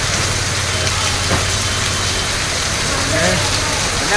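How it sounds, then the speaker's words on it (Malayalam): Steady, dense rain pours onto a shed at an early-morning market during onion unloading, with a constant broadband hiss and a low engine rumble beneath it. "എന്ത് മഴയാ വൈ ഭയങ്കരമായിട്ടുള്ള മഴ അല്ലേ"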